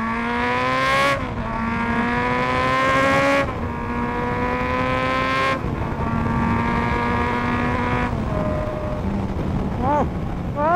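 A car accelerating hard in sport mode, its engine note climbing steeply through several gears with a brief dip at each shift, loud and close throughout.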